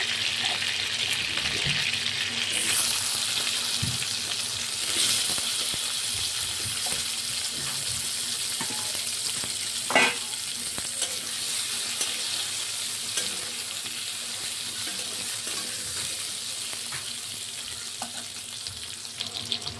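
Potato pieces frying in oil that was just used for prawns, a continuous hiss of sizzling with occasional clinks and stirring knocks, close and steady, no voices.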